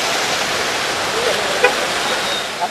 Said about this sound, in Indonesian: Arus anak sungai Kali Bening Abung Selatan meluap ke jalanan setelah hujan deras lebih 5 jam.